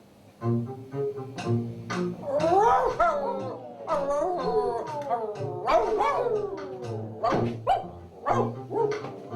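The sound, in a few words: stray dogs around a house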